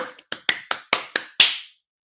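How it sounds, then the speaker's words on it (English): Seven sharp hand claps in a quick, slightly uneven rhythm, close and crisp, the last one loudest with a short ring-out before silence; no talking. "excited clap"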